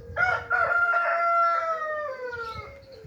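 A rooster crows nearby, one long drawn-out call that rises and trails off, loud and clear with no talking.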